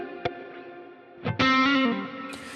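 Guitar played through a Neural DSP Archetype Pliny X plugin running in MPC 3.5 with heavy reverb, sustained distorted notes with a few short plucks and a bright rising bend that rings out and washes into a long tail.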